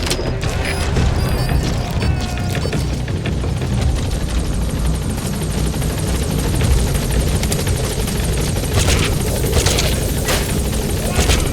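A loud support helicopter from Metal Gear Solid 5: The Phantom Pain thumps and whines steadily close overhead, rotor noise constant throughout, with faint mechanical clanks mixed in; no speech.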